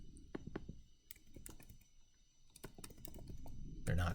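Code being typed on a computer keyboard, quiet close key clicks in irregular bursts and short pauses, with no talking.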